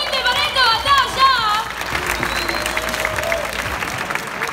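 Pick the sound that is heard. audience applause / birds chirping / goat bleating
audience applause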